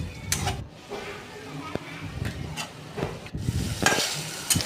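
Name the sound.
paneer frying in oil with spices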